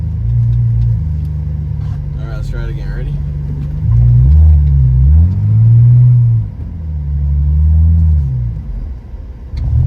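A BMW E46 fitted with a Turner Motorsports valved catback exhaust rumbles loud and close, its revs swelling and dipping in a few surges, with brief voice sounds near the start.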